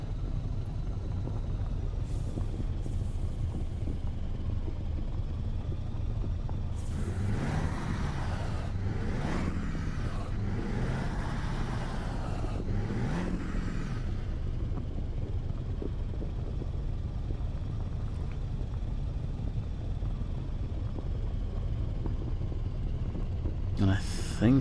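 A simulated truck engine hauling a trailer in Euro Truck Simulator 2 keeps a low, steady rumbling drone, with a passage of louder, more textured noise in the middle before settling back to the constant hum.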